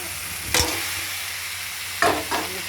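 Boiled potatoes stirred into spices frying in oil, with two sharp scraping stirs over a steady sizzle and hiss, close and fairly loud, no voices.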